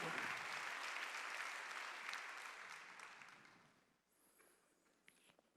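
Congregation clapping during a Korean Sunday church service, a burst of many hands that fades out after about four seconds, leaving quiet room sound with a few faint knocks.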